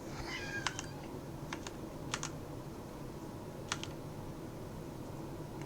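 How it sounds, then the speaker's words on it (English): A pet cat meows behind a closed door, a few brief high cries in the first second or so, faint and off-mic against steady room noise and sharp keyboard clicks. "Sorry if you can hear my cat meowing."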